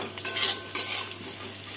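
Egg and potato fry in a pan for an egg curry, a soft sizzle under brief metallic scraping and clinks from stirring utensils, close and short.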